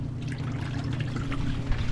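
Water being poured out of a pot, a steady close trickling splash that runs continuously for about two seconds with a slight surge near the end, no voices over it.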